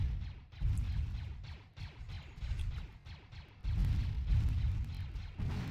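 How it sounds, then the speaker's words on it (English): Rapid booming gunfire and blasts from a space shooter video game as a spaceship is shot at, continuous loud rumbling barrages with brief lulls, no speech. "Stop shooting my spaceship."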